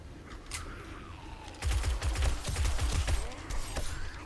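Gunfire in the video game 7 Days to Die during a Blood Moon event, several bursts of rapid booming shots in the second half, close and punchy, with no talking.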